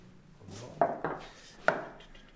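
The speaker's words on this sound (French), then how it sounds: "je vais écaler mes œufs. C'est-à-dire, je vais enlever la coquille." Boiled egg shells being cracked and peeled, three or four soft, close taps and crackles against a quiet kitchen background.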